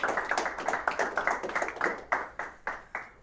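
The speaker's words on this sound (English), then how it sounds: "Give him a round of applause." A small group at an evening company office gathering claps in distinct, rhythmic bursts, individual hand claps clearly separable and fairly close, thinning to a few spaced claps by the end.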